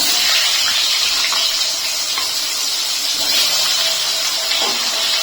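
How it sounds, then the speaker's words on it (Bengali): Potatoes dropped into hot oil with cumin and black cumin seeds fry with a loud, steady hiss and sizzle, faint clicks of the pan showing through now and then. "জিরেটা ফুটে গেলে আমি দিয়ে দিচ্ছি আলু।"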